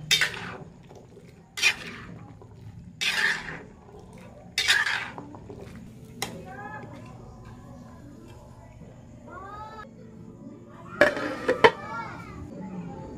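A metal utensil scraping and clanking in a pan as winter melon and squid are stirred, in four sharp bursts followed by lighter sizzle and clatter, while someone talks and children are heard in the background.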